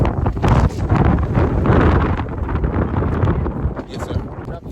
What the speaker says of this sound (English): Got some strong wind out here.